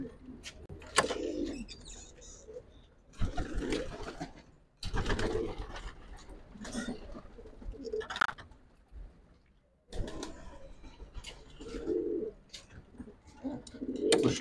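Pigeons coo in repeated soft bursts close by, with pauses of near silence between calls and occasional faint chirps.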